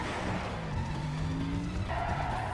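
Car drifting with squealing tyres in Need for Speed Most Wanted 2005, a loud continuous engine roar with a rising tyre screech that holds for the whole stretch.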